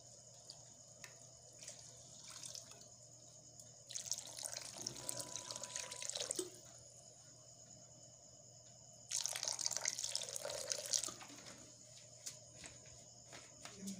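Water poured into a pan of cooking chicken masala for a whole-chicken murg musalam: two faint splashing, trickling bursts separated by a quiet pause, over a constant insect-like chirp and a low background hum.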